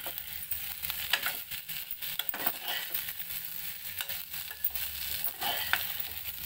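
Taro root (colocasia) sizzling steadily in hot oil in a pan, with repeated scraping stirs of a spatula through the frying pieces, close and continuous.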